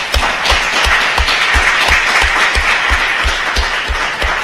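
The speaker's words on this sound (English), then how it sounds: "Round of applause." An audience at a GeekFest Berlin talk on personal computing history gives a round of applause, dense sustained clapping from many hands with a steady rhythmic beat, loud and continuous.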